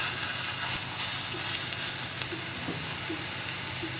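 Fate low-protein fake steak and large mushrooms fry together in a hot pan, giving a steady, close, continuous sizzle and hiss throughout with no talking.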